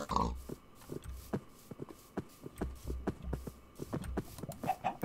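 Pigs grunting and oinking in short calls in Minecraft, mixed with light clip-clop footsteps at a steady pace.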